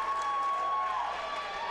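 A crowd at a high school volleyball match between Laurel and Billings Central, cheering and clapping loudly during team introductions, with a steady tone sounding over the noise.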